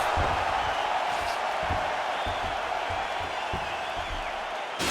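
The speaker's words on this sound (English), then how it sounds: "So the crowd voicing its appreciation after that round" An arena crowd at an MMA fight cheers and applauds after a round ends, a dense, sustained roar with scattered whoops that holds steady throughout.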